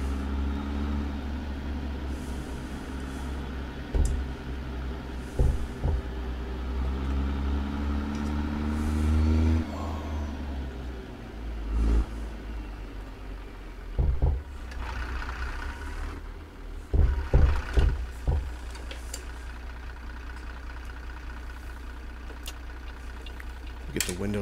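A Kenworth W990 truck in American Truck Simulator hauling a 50-ton lowboy, its engine a steady low rumble heard with the windows down, swelling as it pulls away, with a person talking over it throughout.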